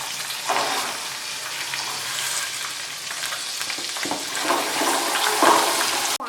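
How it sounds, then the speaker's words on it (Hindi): Walnuts frying in a pan for walnut halwa, a loud continuous hiss and sizzle with stirring scrapes, steady throughout with no voices. "इसको फ्राई करते हैं।"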